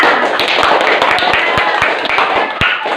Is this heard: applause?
yes